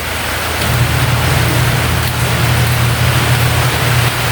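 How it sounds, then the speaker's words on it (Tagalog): Heavy rain pours steadily on a street beside a small wet market, a dense, even hiss with a low rumble underneath, continuous and close, with no voices. "Ang lakas ng ulan mga ka-business."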